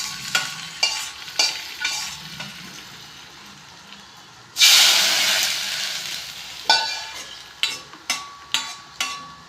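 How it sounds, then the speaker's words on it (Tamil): Hot tempering is poured into ginger rasam and gives a sudden loud sizzle that slowly fades. Stirring clinks and scrapes come before and after it. "இப்போது நம்ம இந்த தாளிப்பை இஞ்சி ரசத்தில் சேர்த்துக்கலாம்."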